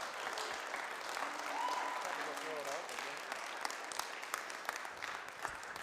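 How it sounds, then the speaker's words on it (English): Audience applause at a GLPA paper session, a steady wash of clapping hands filling the room for several seconds, with a few voices murmuring underneath. "So Jacob was super nervous. So can we give him a round of applause,"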